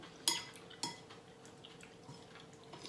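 A metal spoon clinks against a dish while Thai home food such as pork larb and minced-pork omelette is eaten, two sharp taps followed by softer, sparse scrapes and knocks in a quiet room.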